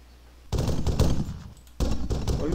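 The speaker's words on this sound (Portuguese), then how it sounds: "Olha o tanto de tiro, galera." Gunfire in the Arma 3 Wasteland mode: two sustained bursts of loud, dense shots, the first starting half a second in and fading, the second starting near the two-second mark, with no talk.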